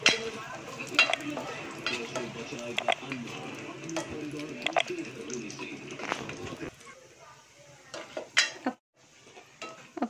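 Pitted dates frying in ghee while a spoon scrapes and clinks against the pot, sharp metallic knocks over a soft sizzle, with a voice talking through most of it before a brief quiet stretch.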